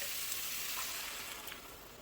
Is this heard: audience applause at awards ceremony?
no